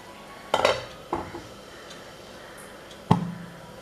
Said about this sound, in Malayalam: ഇനി നമുക്ക് മൂടി വെക്കാം.